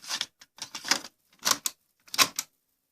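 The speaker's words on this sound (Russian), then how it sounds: "Нажимаем на край крышки, открываются кассетоприемники." Plastic cassette compartments of an AIWA NSX-V50 music system's twin cassette deck being pressed open, giving a run of short clicky mechanical clatters in quick bursts, close and fairly faint, with no voices.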